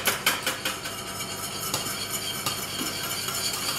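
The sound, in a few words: stirring creamy camembert sauce in a pan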